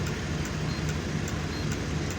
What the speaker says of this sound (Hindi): बारिश भी हो रही है, अल्लाह खैर करे